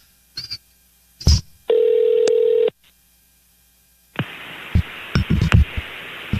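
Telephone call sequence: a few short beeps, a steady dial tone for about a second, then a quick run of keypad tones over a noisy line, all loud and close with no voices.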